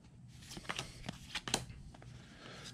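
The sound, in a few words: flipping through a stack of Star Wars trading cards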